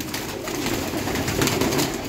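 Pigeons of a prized flying breed cooing steadily at close range, a soft continuous low murmur of several birds with no voices over it.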